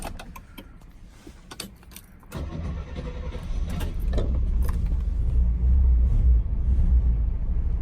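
A Rolls-Royce Silver Shadow engine starts after some key and cabin rattles, then settles into a loud, steady low rumble as it runs and warms up close by.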